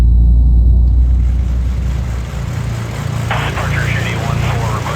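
Twin piston engines of a Black Square Piston Duke aircraft idling and rumbling steadily as it taxis in a flight simulator game, loud and continuous, with a faint radio chirp near the end.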